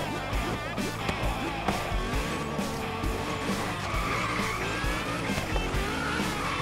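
A Zenvo ST1 accelerating in fourth gear in Forza Horizon 3, a steady loud engine roar with rising whine and tire noise, continuous and close throughout.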